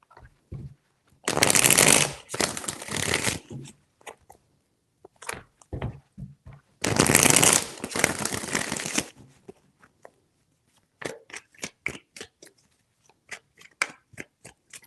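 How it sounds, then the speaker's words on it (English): Tarot cards shuffled by hand in two long riffling bursts, each a couple of seconds, followed by scattered soft taps and flicks of cards being handled and laid down, close and fairly loud with no talking. "3 shuffles."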